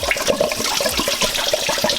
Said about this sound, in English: As soon as you pull this, there's just Niagara Falls.